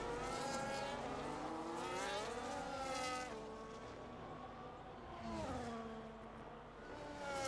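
Racing cars in the video game F1 25 at Mexico City, engines whining and dropping in pitch as they slow, then revving back up, with tonal harmonics sweeping up and down and no voices.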